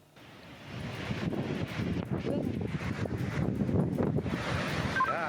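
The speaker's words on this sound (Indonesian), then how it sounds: "ombak tinggi menerjang kapal tugboat yang sedang bersandar di area Blok 3 Tanjung Priok, Jakarta Utara hingga terbalik" High waves and strong wind batter a tugboat moored at Block 3 of Tanjung Priok port in North Jakarta, a rough, gusty wash of surf and wind buffeting the microphone, building gradually and staying loud.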